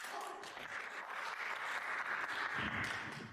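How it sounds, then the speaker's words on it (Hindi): Broadband applause from a crowd filling a hall, a dense, steady wash of clapping that holds for several seconds at moderate distance with no voices over it. "पूरे हॉल की तालियां सुनी आपने।"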